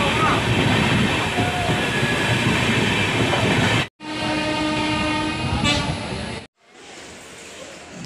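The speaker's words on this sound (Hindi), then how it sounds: "Jaipur Mumbai super fast Jaipur railway station छोड़ चुकी है और अपनी गति पकड़ रही है" Jaipur–Mumbai superfast train picking up speed after leaving Jaipur station, a loud, steady rumble and roar of wheels on rail with a sustained horn tone, broken by two sudden dropouts before quieter running continues.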